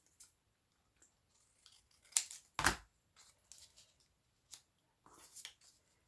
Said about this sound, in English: I might cut that a bit narrower,